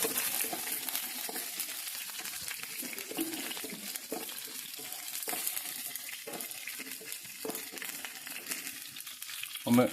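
Food fries quietly in a pan while being stirred, a soft continuous crackling sizzle broken by light scrapes and taps, with a louder knock at the very end.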